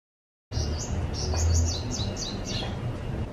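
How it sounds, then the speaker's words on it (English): Many birds chirp and sing in quick overlapping phrases on a tropical island in the Philippines in the morning, close and clear over a steady low background hum, with no talking. "So many birds, beautiful singing."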